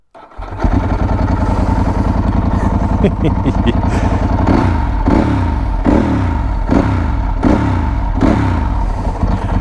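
Ducati 916 SPS motorcycle engine cranking, catching and settling into a loud, lumpy, rhythmic idle close by, with throttle blips swelling the beat.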